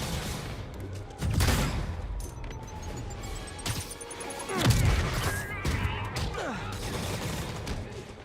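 Gunfire in the video game Marvel's Spider-Man 2 aimed at Spider-Man: two loud volleys of shots, around the first and fifth seconds, over a busy bed of action sounds and mechanical clatter.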